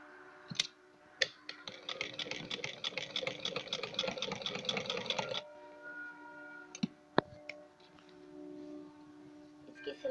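A sewing machine stitches along a kameez neckline, its needle running in a fast, steady burst of close ticking for about four seconds. It then stops, leaving a few sharp clicks and handling sounds.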